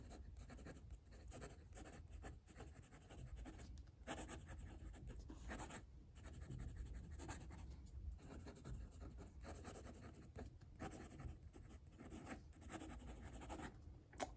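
A Waterman Expert 3 fountain pen with a fine nib and blue ink scratches steadily across paper, a continuous close, quiet scratching of strokes with brief pauses between words and no talking.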